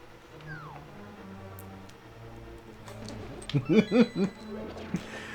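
A cat meows a few times in quick succession near the end, its short tonal calls rising over a steady hum of game music and background noise.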